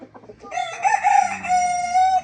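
A decorative rooster crows once, loud and close, after a few short clucks, with no talk.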